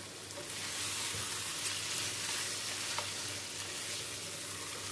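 Beef fry with coconut oil and coriander leaves sizzles steadily in a pan as it is stirred, a continuous close frying hiss with no voices.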